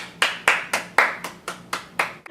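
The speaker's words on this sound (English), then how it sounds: "Now let's give a round of applause" Applause for Wheezy and Sons on a late-night comedy show: about nine distinct, evenly spaced claps ring out sharply and close, almost like one pair of hands, with no talking.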